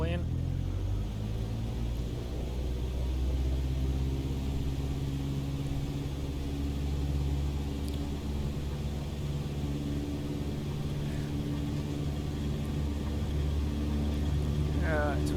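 A light aircraft engine in Microsoft Flight Simulator 2020 throttles up for takeoff, a loud continuous droning rumble holding steady throughout, with no voices.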